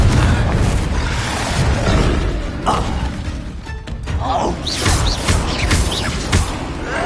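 Confringo spell explosion in Hogwarts Legacy: dense, loud bursts of booming blasts and crashing impacts run through the whole stretch amid busy combat noise, with voices heard in the mix.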